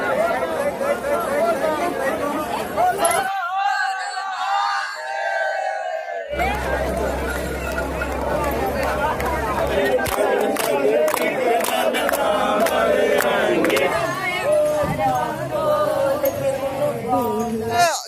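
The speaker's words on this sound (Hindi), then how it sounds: "सुल्तानगंज में उत्तर वाहिनी गंगा के तट पर आप देख रहे हैं हजारों श्रद्धालुओं की भीड़।" A dense crowd of thousands of pilgrims on the Ganga bank at Sultanganj fills the air with continuous chatter, shouts and cheering, with a brief muffled stretch partway through.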